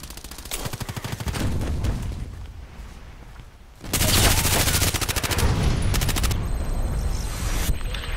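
Rapid bursts of automatic gunfire in the online shooter Contract Wars, in a dense rattling volley, a short lull, then a louder sustained stream of shots with sharp electronic game sounds near the end.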